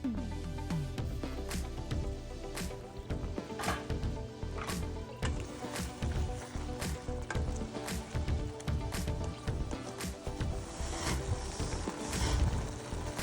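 Tomatoes cooking under a lid in a pan for prawn curry give off a steady, close bubbling and sputtering simmer, with a constant stream of small pops and drips and no talk.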